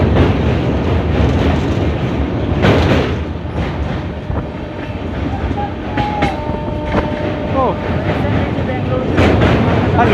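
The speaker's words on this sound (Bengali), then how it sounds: "এটাই হচ্ছে ইন্ডিয়ান রেলওয়েজের ফার্স্ট অমৃত ভারত এক্সপ্রেস" The Amrit Bharat Express of Indian Railways passes close by with a loud, continuous rumble and rhythmic clickety-clack of wheels, and voices are heard now and then.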